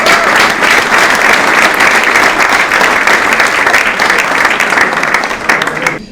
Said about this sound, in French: vous pouvez effectivement les applaudir